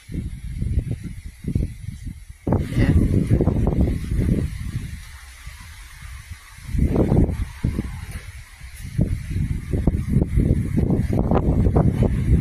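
Strong wind gusting outdoors in loud, uneven bursts that buffet close and roughly, swelling and easing across the clip, with no talk.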